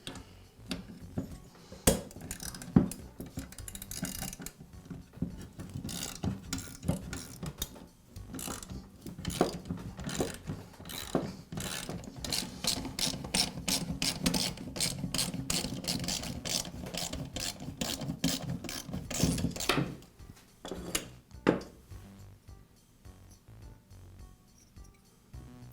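Ratchet turning bolts to remove the muffler from a Troy-Bilt string trimmer engine, with dense rapid clicking in repeated bursts, close and clear, followed by quieter clinks of handling parts.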